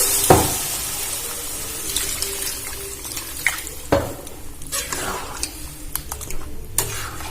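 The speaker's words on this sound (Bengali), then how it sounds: "আমি দিয়ে দেবো জল আমি জল দিয়ে দিলাম" Water goes into a hot pan of soybean curry, giving a brief splash and hiss followed by clinks of a utensil against the pan and a low simmering sizzle, close and moderately loud with no talking.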